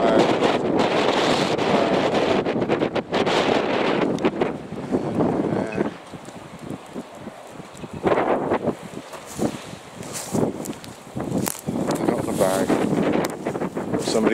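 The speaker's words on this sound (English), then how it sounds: "I need a breather out of that wind. It's quite unpleasant." Strong wind roars and gusts across a boat near its mooring, loud in bursts with calmer gaps, mixed with rustling and light water sounds.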